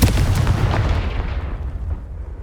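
Confringo blasting spell going off in Hogwarts Legacy, a loud, sustained booming explosion with heavy low rumble that roars from the start and slowly decays over a couple of seconds, no voices.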